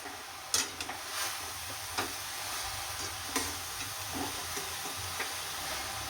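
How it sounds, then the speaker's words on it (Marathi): Beetroot halwa with jaggery is stirred in a pan, giving a steady soft sizzle with a few sharp clicks of the spoon against the pan, close and continuous with no talking. "आता आपल्याला अजून 2-3 मिनटं असाच परतून घ्यायचा आहे."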